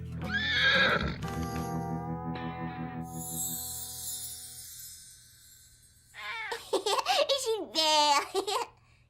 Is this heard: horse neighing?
yes